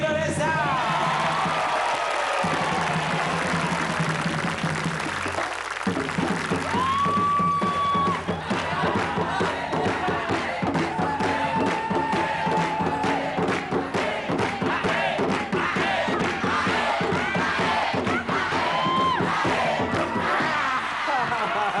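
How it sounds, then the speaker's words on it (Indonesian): A game show studio audience in Indonesia applauds and cheers loudly and continuously, a dense close wash of clapping with whoops and shouts, and voices calling out over it. "Kita beri tepuk tangan sekali lagi untuk Siop Indonesia."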